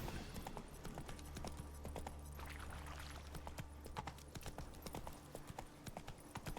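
Horse hooves clip-clop steadily in The Witcher 3: Wild Hunt, a close, even rhythm of hoofbeats carrying throughout while the horse is ridden through the game world.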